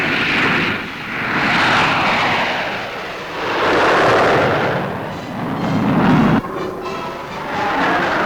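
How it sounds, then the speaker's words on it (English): Fighter planes streak past at high speed, approaching the speed of sound, in a loud, continuous jet roar that swells and fades in repeated waves, with a sharp cut near the end. "The fighters work together as a deadly team at high speeds"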